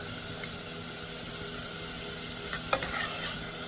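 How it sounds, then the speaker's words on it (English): Onions and bacon frying in a pot for a Sunday dinner, giving a steady soft sizzle with faint stirring, then a brief clatter of utensils near the end, no talking. "I'm just cooking this up, letting my onions get tender, and obviously letting the bacon cook."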